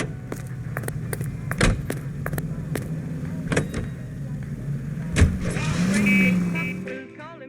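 A car in LA Noire, with engine hum steady underneath and a series of sharp clicks and thumps like door and mechanism sounds, then a rising whine near the end before cutting out.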